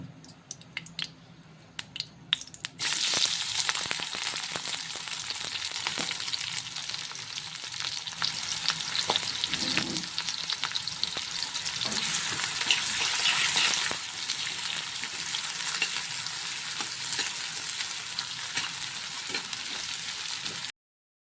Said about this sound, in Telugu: చికెన్ వేసుకొని ఫ్రై చేసుకుందాం.